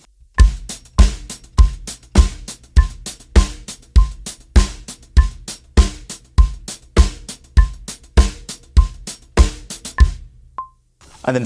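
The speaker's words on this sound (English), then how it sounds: "we're just going to add a 4 on the floor bass drum." A house drum groove pairs steady sixteenth-note hits with a four-on-the-floor bass drum thumping on every beat, loud and close, ending with a single ringing hit and no voices.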